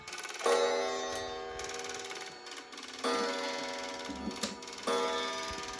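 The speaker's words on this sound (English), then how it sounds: "Here's the chimes." A mantel clock chimes a series of ringing notes, each strike leaving a sustained, resonant tone that decays before the next; close and clear.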